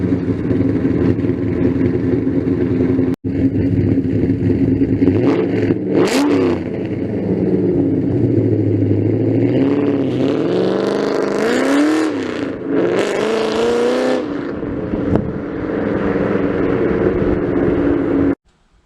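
A 2002 Ford Mustang GT engine idles loudly, then revs up in several rising and falling blips, close and alone with no talking.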